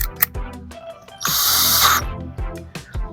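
A power drill with a Phillips bit drives a screw into an electrical outlet box for an outdoor receptacle, giving one short high-pitched whir of under a second, set between clicks and knocks of handling close by.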